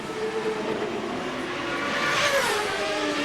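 CART race cars at speed around the Vancouver street circuit during 2002 Friday qualifying, a continuous loud engine roar with a rising, high-pitched whine as a car passes, no talk over it.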